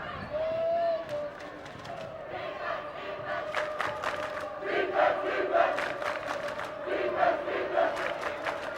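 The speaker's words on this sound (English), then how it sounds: "this crowd is mocking South Milwaukee as they inbound from in front" A crowd at a girls' high school basketball playoff game, Oak Creek against South Milwaukee, makes a steady roar of jeering and chanting as the opposing team inbounds. Bursts of shouting rise and fall over a continuous din of many voices in a gym.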